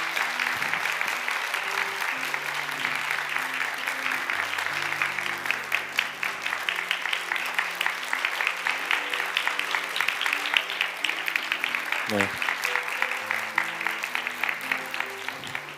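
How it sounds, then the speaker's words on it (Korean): Church congregation at a youth worship service applauding long and steadily, dense clapping under soft keyboard music, with one short vocal sound partway through. "우리 나오실 때 박수로 한번 맞이해 주실까요?"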